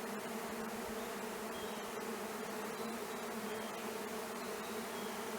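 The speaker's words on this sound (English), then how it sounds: "probably just the movements of the bees around" A honeybee swarm hums around the lower branches of a huge red oak above a shed, a steady, continuous mid-distance drone with no pauses and no voices.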